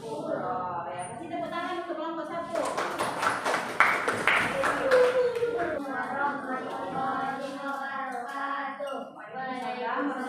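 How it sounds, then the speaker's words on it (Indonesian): A class of students claps for a group during a religious lesson, a short dense burst of many hands lasting a couple of seconds mid-clip, with children talking before and after. "kasih tepuk tangan untuk kelompok 1"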